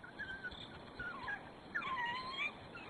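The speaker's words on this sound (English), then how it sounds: "the yelps that smell elicits cue a ready response from them to regurgitate their meal." A pack of African wild dogs gives high, thin whimpering yelps and wavering whines, several calls overlapping, heard faintly at a distance.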